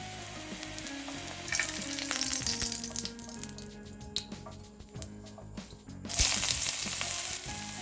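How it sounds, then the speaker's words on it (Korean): Onions fry in a pan for an egg-in-hole brunch with a close, steady crackling sizzle. Utensil scrapes and taps come through now and then, and the sizzle swells louder near the end. "양파의 매운 맛이 사라질 정도로만 구워주시면 됩니다"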